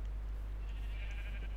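Sheep bleating in the Minecraft Tekkit game, a soft, drawn-out bleat sitting over a steady low hum and background noise, heard alone without talk.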